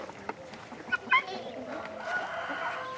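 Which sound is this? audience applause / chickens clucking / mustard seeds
chickens clucking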